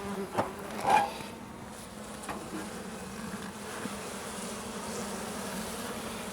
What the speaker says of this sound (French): On y va tranquillement avec la fumée, hein. Elles n'ont pas trop l'habitude. C'est des abeilles d'hiver